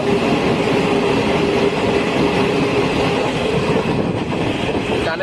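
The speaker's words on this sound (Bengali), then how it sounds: "দেখো আমাদের ট্রেনটার ভিউ। এখন আর একটা টানেল দিয়ে যাবে।" A train runs through hill tunnels near Chalsa, a loud, steady rumble with rolling wheel noise that holds close and continuous throughout.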